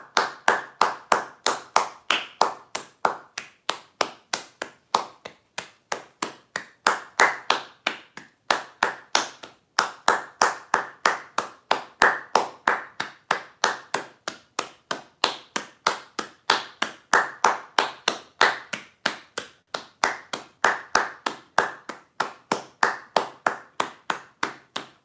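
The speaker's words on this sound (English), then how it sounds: "I'm not stopping until everybody claps." One person claps hands alone in a fast, steady rhythm, sharp crisp claps repeating in bursts with tiny pauses, close and loud for the whole stretch.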